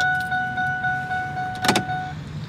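A supercharged 2001 Ford F-150 SVT Lightning with a Borla exhaust idles with a steady hum, gives a short burst of noise, then its engine cuts off.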